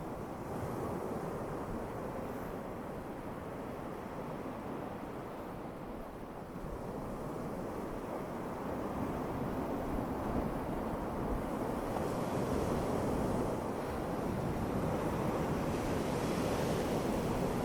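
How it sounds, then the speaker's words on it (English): Simulated ocean surf rolls on as a continuous soft wash of breaking waves with a faint airy hiss, steady and unbroken with no voices. "do you mind if I turn the waves down just a wee bit?"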